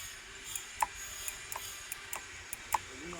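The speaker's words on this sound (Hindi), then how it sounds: "आवाज़ सुनिए लीवर का। न्यू लीवर में से ऐसा आवाज़ आना चाहिए।" A series of light, sharp clicks at an uneven pace, crisp and close, over a quiet background hiss.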